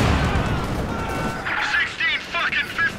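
In the Company of Heroes video game, .50 cal machine guns and other battlefield fire rattle and boom loudly at first. A voice then cuts in over fading gunfire.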